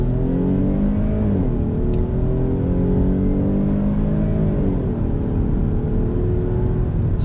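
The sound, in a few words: SUV accelerating from a stop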